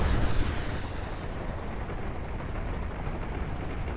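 Rocket pods fire and explode in the naval combat game Carrier Command 2, a dense, rumbling roar of blasts that swells at the start and then holds steady and loud throughout.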